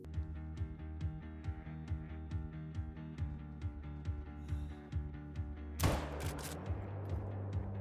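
A single loud, sharp .44 Magnum lever-action rifle shot fires in a hunting video game during a melanistic fallow deer hunt, bursting out over steady, tonal background music that continues before and after it.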